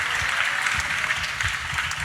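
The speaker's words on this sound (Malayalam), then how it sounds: "ഒന്ന് കൈയടിച്ച് കർത്താവിനെ സ്തുതിച്ച്" A church congregation at a healing prayer meeting claps continuously in praise, a dense, even wash of many hands close by with a steady rhythmic pulse.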